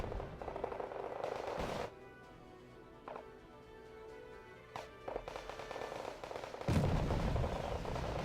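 Bombs fall and guns fire in the Cold War strategy game Wargame: Red Dragon, sharp bursts of explosions and gunfire separated by quieter stretches, ending in a louder rumbling barrage.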